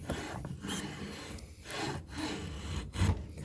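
A hand router plane shaves the base of a wooden housing flat, giving steady rasping, scraping cuts with short pauses between strokes, close by and moderately loud.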